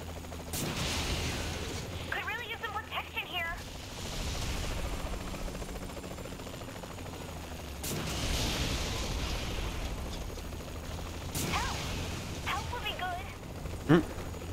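A helicopter in the video game Saints Row The Third, heard as a steady rotor drone under continuous game gunfire, bursts and talk.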